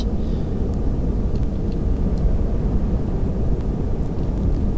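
Steady low engine rumble of a vehicle being parked in the sci-fi game Empyrion, a constant broadband drone with no clear changes, holding evenly throughout with only a faint high whine near the end.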